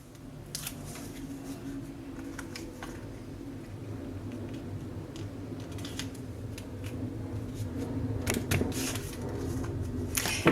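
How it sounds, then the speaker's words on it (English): Scissors snip through craft tape on a card-making desk, a few short crisp cuts and rustles close by, growing slightly busier toward the end. "If you want to make your tape go a little further, you can cut it in half."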